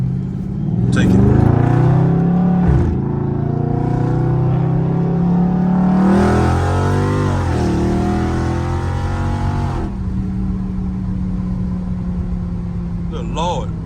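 A Dodge Scat Pack driven hard in traffic, its engine loud and close, revving up and down through several surges before settling to a steadier hum, with a voice heard over the engine noise.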